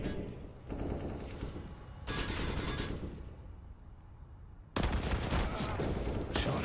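Automatic gunfire during a Counter-Strike pro match between NAVI and Evil Geniuses, with rapid bursts of shots in several separate strings and short gaps between, close and sharp.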